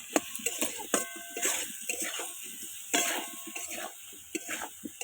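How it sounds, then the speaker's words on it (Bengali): Turmeric and salt fry in a pan with faint sizzling under scraping and stirring clatter, as a spoon knocks against the metal in irregular bursts. "হলুদ আর লবণ দিয়ে ভেজে নিচ্ছি"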